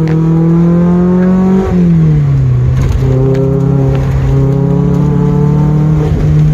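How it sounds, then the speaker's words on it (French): Lotus Elise S2 lightweight sports car engine, loud and close throughout, a steady drone that dips and shifts pitch around a gear change, then settles into a sustained cruising hum while driving. "on se fait plaisir à bord de cette Lotus Elise"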